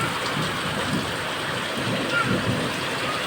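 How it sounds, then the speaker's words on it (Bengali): Heavy rain in Barasat pours down in a dense, continuous hiss, steady and loud, with a low rumble underneath. "কি পরিমাণ বৃষ্টি হচ্ছে।"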